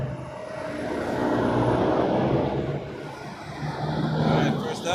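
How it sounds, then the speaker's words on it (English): A heavy jet airliner departing Toronto Pearson Airport gives a steady, broad engine roar that rises and falls slightly over a few seconds, fairly close and loud with a low rumble. "Like watching the heavies depart."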